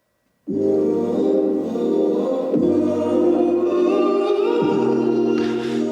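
A mellow instrumental intro with sustained warm chords that shift every couple of seconds, steady and close, with a faint airy texture rising near the end.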